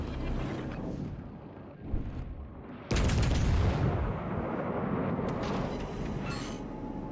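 Naval guns fire in World of Warships Legends: a rumbling mechanical bed, then a sudden loud booming salvo that leaves a sustained roar with metallic creaks, close and dominant, no talk.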